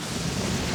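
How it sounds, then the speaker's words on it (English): Rain in the Genshin Impact video game: a steady, dense hiss of falling rain filling the moment, even and unbroken, with no voices. "It's raining again?"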